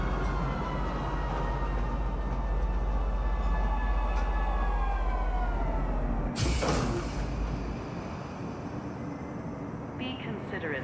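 A Metro Center transit train in the Star Citizen game rolls in with a loud, sustained rumble and whining tones, then a sharp hiss of air brakes as it stops, while an announcer voice speaks over it.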